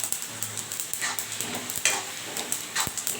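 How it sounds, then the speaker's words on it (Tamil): Beans sautéing in a frying pan, a steady soft sizzle with scattered stirring scrapes and a few sharp knocks of the spoon against the pan, heard close up without talk. "வதங்கிட்டு இருக்கட்டும்"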